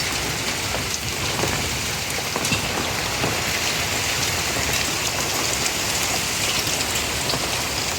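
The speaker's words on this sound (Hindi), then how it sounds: "ये देखें, बारिश, बहुत तेज़ बारिश शुरू हो गई है अचानक ही" Torrential rain hammers down in a Lahore thunderstorm, a loud, continuous, dense roar of drops striking surfaces nearby, with no voices.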